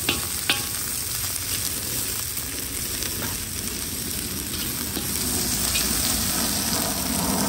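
Salt and pepper shrimp with jalapeños sizzling in a frying pan as the mix is stirred, a steady close crackle with occasional scraping clinks, no voices.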